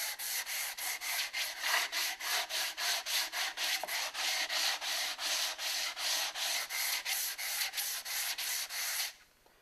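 A Sand Devil sanding belt knocks sharp corners and edges off wood in rapid, regular back-and-forth strokes, a rhythmic scratchy rasping with about three passes per second, close and steady until it stops near the end.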